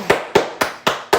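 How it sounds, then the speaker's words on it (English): Five sharp, evenly spaced hand claps from a person enduring the burn of a spicy hot chip, loud and close, with no speech over them. "He's clapping through the pain."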